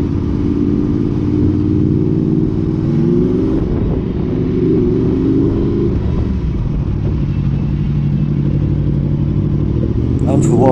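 A Honda VFR800 VTEC motorcycle pulls away from a traffic light in Launceston, UK, its engine note rising as it accelerates through the first seconds, then settling into a loud, close, continuous rumble.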